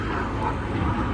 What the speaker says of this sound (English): Sorry about the noise. We got planes today